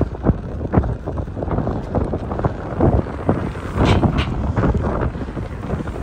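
Strong cyclone wind blows at a beach in Balneário Camboriú, buffeting hard with loud gusty roars and rough bursts for the whole stretch.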